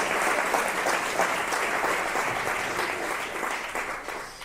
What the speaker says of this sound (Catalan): Aplaudiu, faltaria més